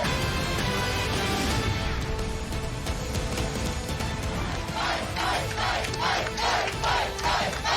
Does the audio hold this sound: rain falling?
no